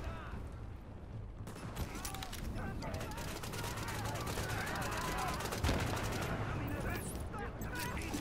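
Sniper and other gunfire in the game The Division, a steady barrage of crackling shots and mechanical clatter throughout, with a voice speaking over the action.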